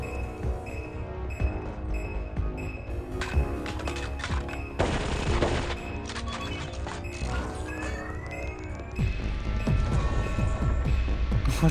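Rapid bursts of machine pistol gunfire in the VR shooter Sweet Surrender, with dense crackling shots, impacts and crashes layered over continuous game music and effects, loud and busy throughout.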